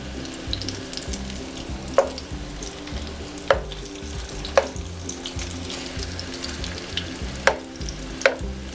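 Salmon cakes seasoned with Parmesan sizzle steadily in a hot pan, a continuous crackling hiss with a few sharp clicks and taps of a utensil spaced through it, close and fairly loud with no talking.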